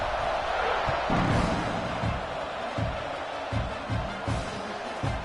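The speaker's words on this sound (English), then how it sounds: "this crowd is feeling themselves after that last drive" A college football stadium crowd roars around a kickoff, a dense, continuous wash of cheering that swells early, with a series of dull low thumps scattered through it.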